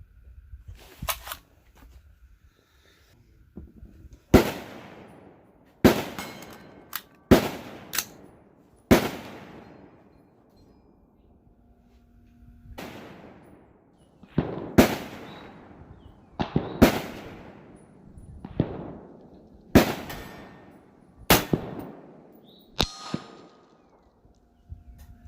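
Rifle shots from a 7.62x39 fired at long-range targets outdoors, about a dozen sharp loud reports spaced several seconds apart, each with a trailing echo, and no talking.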